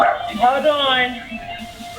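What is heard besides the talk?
small dog barking during call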